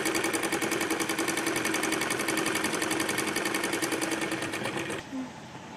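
A sewing machine runs fast and steady, its needle rattle close and continuous as it stitches Patiyala salwar fabric pieces together, then stops near the end.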